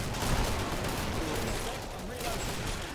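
Rapid gunfire from a Killing Floor tournament match rattles continuously as players shoot at a Scrake, dense and loud throughout, with commentators talking over it.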